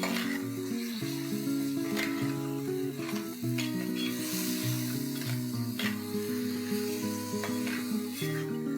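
Marinated prawns sautéing in hot oil and masala for a Malvani prawn rice dish, with a steady continuous sizzle and occasional stirring scrapes in the pan, close and fairly loud.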